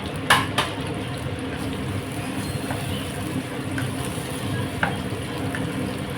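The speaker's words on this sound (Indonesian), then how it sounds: "Ini sambalnya saya goreng sampai matang dulu ya" Sambal with turmeric leaf and bruised lemongrass fries in a pan, a steady moderate sizzle with occasional clinks and stirring scrapes, close by and without talk.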